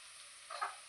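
Ingredients for mushroom biryani sauté in a pan, a soft steady sizzle that swells briefly louder near the end of a short, fairly quiet moment.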